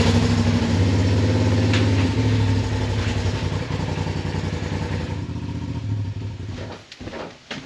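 Engine of a Polaris RZR side-by-side idles and runs steadily close by with a loud, clattering mechanical rumble, dropping off briefly near the end during unloading; no talking.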